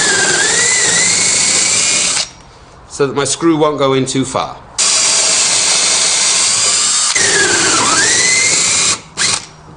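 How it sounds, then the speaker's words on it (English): A power drill whines loudly in long runs while drilling a hole in a block of wood, speeding and slowing, with someone speaking briefly during a pause between bursts. "So I take this block of wood, which I drill a hole in it"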